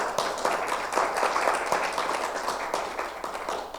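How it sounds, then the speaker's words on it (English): Applause around a business meeting table, a modest round of scattered clapping from a small group lasting a few seconds, close and fairly soft. "Everybody give Andrea a round of applause for being with us."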